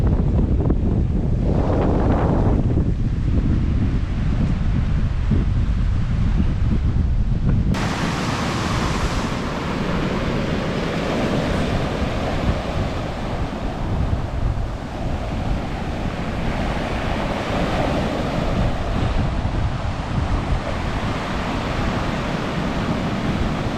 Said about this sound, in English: because I'm not swimming in these waves.